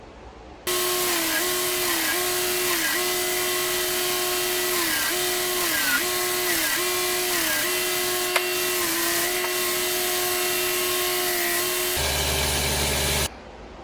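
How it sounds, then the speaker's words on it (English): A kitchen knife blade is worked on a powered sander through its grits to clean up the plunge line. The motor drones steadily up close, its pitch dipping briefly again and again as the steel is pressed to the belt, then winds down. "I think I can sand it out when I go up the grits and go up and down"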